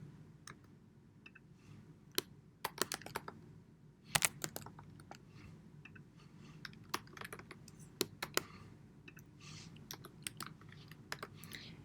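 Machine details are typed on a computer keyboard in irregular bursts of sharp, close key clicks with short pauses between. It is fairly quiet overall, with no talking.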